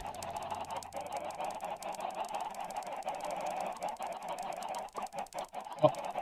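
Chickens clucking in the video game Minecraft, a steady run of faint fowl calls over an even game backdrop, with one sharp sound near the end.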